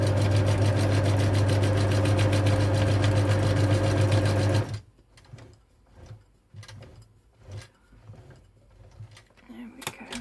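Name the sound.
sewing machine stitching fabric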